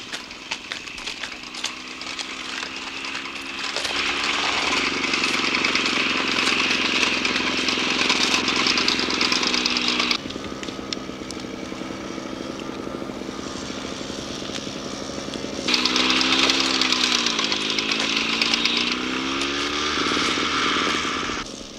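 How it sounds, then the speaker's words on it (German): A 1950s Holder single-axle tractor engine drones steadily while harvesting basket willow, its loud putter rising and falling as the revs change in several surges, running nearby without any talk. "Dieser Holder-Einachsschlepper wurde in den 50er Jahren angeschafft."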